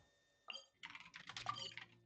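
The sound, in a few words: intense typing on a computer keyboard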